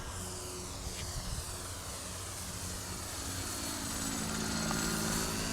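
A Hobbyking Auto G2 V2 RC gyrocopter flies with a steady, whirring motor and rotor drone at moderate distance, swelling slightly louder toward the end, with light wind in the background.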